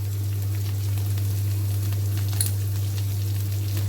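Curry leaves and asafoetida sizzling in hot oil in a pan: a loud, steady, crackling frying hiss that runs without a break, with a low constant hum underneath and no voices.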